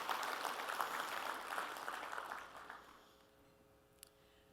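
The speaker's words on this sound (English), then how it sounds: "Round of applause." An audience at a company talk claps for the team, a modest burst of applause that fades out after about three seconds, leaving a quiet room with one sharp knock.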